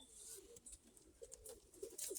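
Pigeons coo softly inside a wooden box, a few low murmuring calls close by but quiet, with light rustling and tapping around them.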